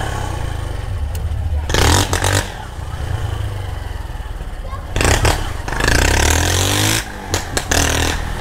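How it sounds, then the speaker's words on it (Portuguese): A motorcycle engine that started misfiring out of nowhere sputters and stutters, then revs up in several loud bursts between rougher idling stretches, heard close by on a neighborhood street. "a moto começou a falhar do nada"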